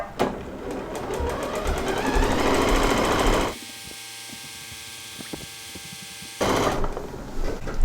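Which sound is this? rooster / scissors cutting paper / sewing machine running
sewing machine running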